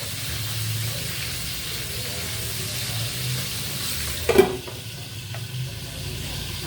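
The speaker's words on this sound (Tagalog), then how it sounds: "Ang ating pritong isda." Mackerel frying in oil, a steady low sizzle running throughout with a brief louder crackle or clatter midway, then settling quieter.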